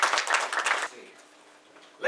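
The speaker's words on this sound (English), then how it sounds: "Have a big round of applause for Alex." Dense theater audience applause fills the first second, then fades to a quiet room before a voice starts speaking.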